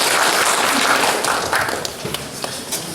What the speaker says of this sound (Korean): 하나님께 뜨거운 박수 올려드리고